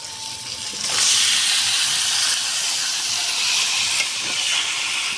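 Spice-marinated chicken poured into hot masala in a pan, a sudden loud hissing sizzle that rises and holds steady, close and without talk.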